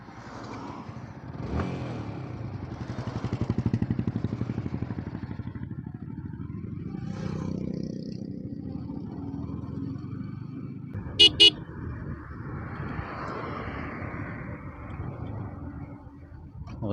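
A Yamaha R15 V4 motorcycle starts and rides off, its engine droning steadily and rising slightly as it moves, with a brief double horn toot partway through and faint background road noise.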